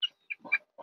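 A hen gives a few soft, close clucks and brief vocal bursts in quick succession, quiet and alone, at a small poultry setup where chickens are treated for worms.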